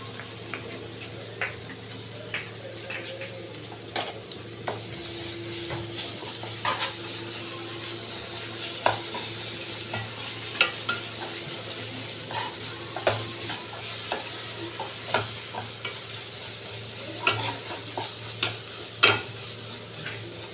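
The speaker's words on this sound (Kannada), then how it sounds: "ಶುಂಠಿ ಬೆಳ್ಳುಳ್ಳಿ ಪೇಸ್ಟ್ ಚೆಂದ ಫ್ರೈ ಆಗಲಿ" Ginger garlic paste frying in a pan, a soft continuous sizzle with repeated light clicks and scrapes of a spoon stirring, close and steady throughout.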